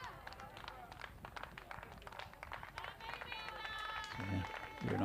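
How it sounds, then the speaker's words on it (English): A crowd applauding at a women's T20 international cricket match between Greece and Spain in Corfu, scattered outdoor clapping from a small gathering with a voice talking over it throughout. "very nice round of applause there from the"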